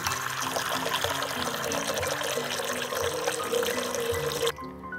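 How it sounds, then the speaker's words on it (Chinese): Water pours steadily from a tap into a bowl of wheat dough being washed to make liangpi, a continuous close splashing flow that cuts off abruptly near the end. "然後我們繼續往這裡邊添加水，繼續來洗。"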